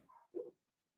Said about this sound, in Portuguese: o cachorro já parou de latir, já deve ter ido embora